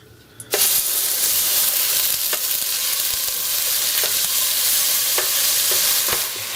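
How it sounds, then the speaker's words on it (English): Garlic and onion dropped into hot vegetable oil in a pot burst into a loud, sustained close sizzle with occasional clicks from stirring. "To the oil, I'm gonna add the garlic and the onion."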